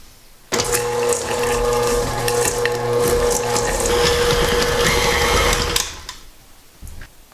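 Electric mixer whirring steadily as it blends jalapeno popper cheese ball ingredients with spices, a loud continuous motor drone running for about five seconds, then cutting off to near quiet.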